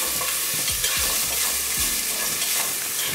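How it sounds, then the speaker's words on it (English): Onions frying in a pan on medium-low heat, stirred steadily, giving a loud continuous sizzle close up with soft scraping strokes of the utensil running through it. "As you can see, I'm just doing a stirring here."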